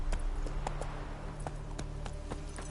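Roach, the horse in The Witcher 3, gallops in a quick, regular rhythm, each hoofbeat a sharp clop over a steady low rumble. The sound is fairly close and moderately loud, with no talk over it.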